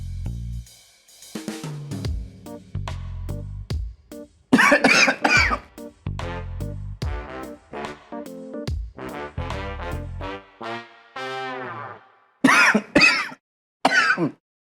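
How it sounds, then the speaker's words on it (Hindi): Someone coughs repeatedly in strained, uneven bursts, with harsh voiced hacking and gasps between the louder coughs. "कितना खांस रहा है"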